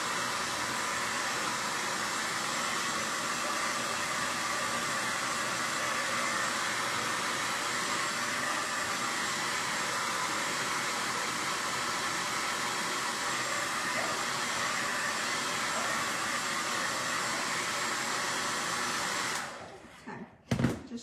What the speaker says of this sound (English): Now I'm going to take my hair dryer,